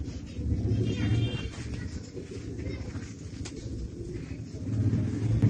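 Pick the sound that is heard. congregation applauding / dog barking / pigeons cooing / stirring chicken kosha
pigeons cooing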